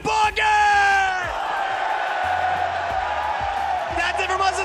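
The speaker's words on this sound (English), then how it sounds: "Make some noise, Mullet Arena." Loud arena crowd at an esports grand final, with yelling, whooping and cheering voices swelling together, and a bellowing shout rising over the roar.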